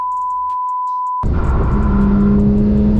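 A Porsche GT4 RS flat-six engine screams up toward 9,000 RPM under hard acceleration, bursting in loudly after a second of near silence with a steady, rising, high-pitched wail close by.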